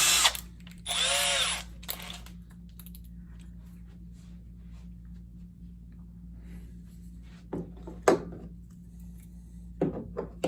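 A power drill fitted with a screwdriver bit whirs in a short high burst as it drives stainless steel screws, followed by quiet handling, a few sharp knocks and clicks.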